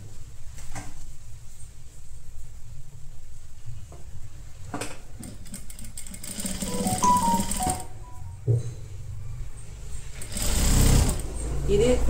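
A sewing machine stitching blouse fabric for a halter neck blouse, short runs of rapid mechanical whirring and clatter, broken by pauses with handling sounds and a brief voice.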